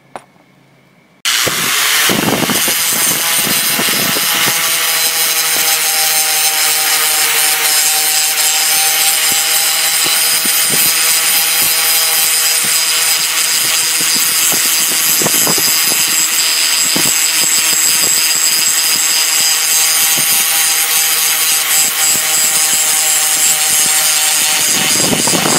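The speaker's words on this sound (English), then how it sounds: "So I'll just use the grinder and" Grinder removing material from a TH400/TH350/700R4 transmission governor, starting abruptly and running loud and steady for about 24 seconds with a harsh, continuous abrasive whine.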